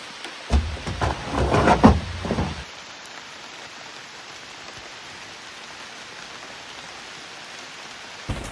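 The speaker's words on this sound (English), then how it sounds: "But we got more rain, so I'm gonna hold out in here." Rain falls steadily at a Wisconsin Northwoods campsite, a soft continuous patter heard alone after a brief louder burst of nearby noise at the start.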